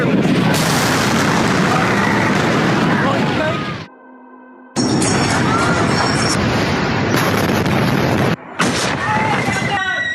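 A Takata airbag inflator with ammonium nitrate propellant blasts apart in a loud, sustained roaring burst that cuts out briefly and then resumes, ending in a final sharp report.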